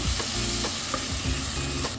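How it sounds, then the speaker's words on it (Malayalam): Masala powder fries and sizzles in an oil-filled pan while a spoon stirs through it in repeated scraping strokes, close and continuous, cooking for a chicken roast, with no talking. "ഞാൻ ഇതൊന്ന് പച്ചമണം മാറി വന്നാൽ നമുക്ക് മസാലപ്പൊടി ചേർത്ത്"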